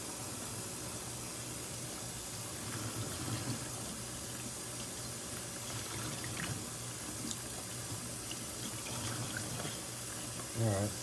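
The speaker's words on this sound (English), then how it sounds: "And rinse this off some more too" ESEE knife scales rinsed under a running tap, a steady hiss of flowing water with faint clinks and handling sounds, fairly quiet and close.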